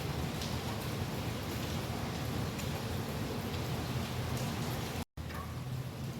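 Steady rain falls in Los Angeles during Hurricane Hilary, a continuous hiss of drops spattering on surfaces, broken only by a brief cut near the end.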